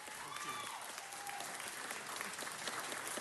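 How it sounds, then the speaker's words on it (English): Steady applause from an audience at a city council meeting, honoring a meal-serving organization's 100th anniversary, a dense even wash of clapping heard from a distance and fairly faint throughout. "let's give them a big round of applause congratulating them for their work"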